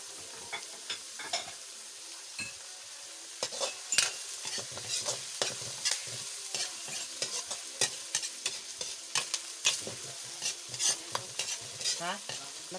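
Vegetables being stir-fried in a pan for a homemade Shanghai-style fried rice, with a steady sizzle broken by frequent scraping and clacking strokes of a utensil, close and fairly loud, no voices.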